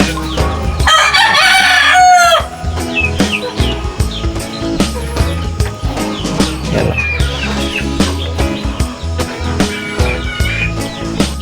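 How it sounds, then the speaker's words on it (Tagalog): Native breeder chickens on a farm: a rooster crows loudly near the start, followed by ongoing clucking and scattered calls from the flock throughout. "dito naman sa kabila yung mga breeder natin na native chicken."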